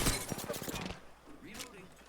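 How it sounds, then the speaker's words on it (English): Burst of rapid enemy gunfire in a first-person shooter video game, loud and close for under a second, followed by quieter game sounds and a faint voice. "The enemies are shooting at me."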